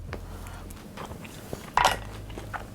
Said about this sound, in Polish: Ja sobie teraz spróbuję kawałek tej przepysznej naszej polskiej kiełbasy, do tego ziemniaki, sos, no i ta przepyszna cebula.